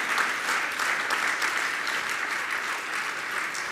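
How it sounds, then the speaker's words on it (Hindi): A crowd at a Jain religious gathering gives sustained, even applause for an honoured guest. The sound is a soft but continuous wash of clapping, heard at some distance. "इनके सम्मान के लिए जोरदार तालियां तो बजाएं आप।"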